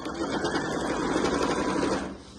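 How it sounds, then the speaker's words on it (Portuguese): A domestic sewing machine stitches through folded layers of twill and batting for a travel bag, a steady, close whirring hum of rapid stitches that runs for about two seconds and then eases off. "perceba, né, que a minha máquina doméstica costura sem muita dificuldade"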